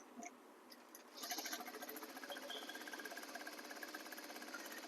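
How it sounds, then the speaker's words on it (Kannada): A sewing machine stitches in a rapid, even mechanical patter that starts after a second of near silence and keeps going steadily, faint and close by. "ಇನ್ನೊಂದು ಹೊಲಿಗೆ ಹೊಲಿಯೋಣ."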